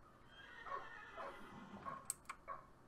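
Horse neighing in the video game Minecraft, a faint, quavering whinny with a few short higher squeals and soft thuds over a quiet background.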